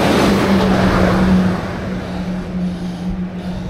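Vehicles and trucks on a busy mountain pass road near the Col du Lautaret, a steady close engine roar with a humming drone that eases slightly after the first second and a half, continuous with no talking.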